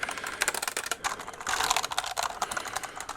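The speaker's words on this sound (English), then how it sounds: "So I got some new keyboards." Rapid typing on new computer keyboards, close and crisp, with dense overlapping keystroke clicks in an uneven rhythm and no talking.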